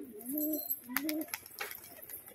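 Pigeons coo softly up close in a loft with low, rolling, repeated calls, accompanied by a few light rustles and flutters.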